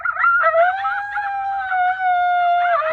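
FoxPro X-24 electronic predator call playing a loud recorded canine howl at volume 30, a sustained wavering wail with yipping inflections at the start, heard alone and close.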